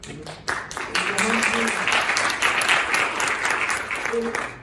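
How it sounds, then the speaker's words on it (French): Audience applause at a talk on gender equality and sexism, a burst of clapping that starts abruptly and holds steady, with a voice briefly heard over it. "On peut l'applaudir."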